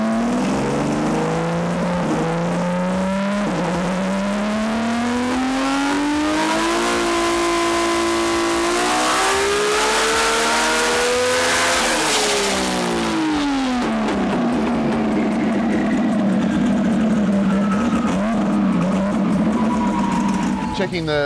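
A boosted car on nitrous accelerates hard, its engine note climbing steadily in pitch through a long loud pull, then dropping and settling, heard from inside the car at close range under a constant roar.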